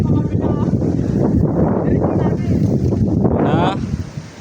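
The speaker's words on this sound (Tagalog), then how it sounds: "Napakalakas na hangin ngayon, oh." Strong storm wind buffets the microphone in loud, continuous roaring gusts outdoors while a kite is flown, with a voice talking over it.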